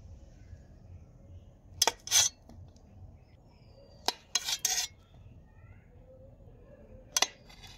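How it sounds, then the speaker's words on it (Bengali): A knife chops peeled ripe bananas into pieces on a board, making three quiet clusters of sharp clicks and taps against a low, steady room hum, with no voices. "এবার আমি এগুলোকে পিস পিস করে কেটে নেব।"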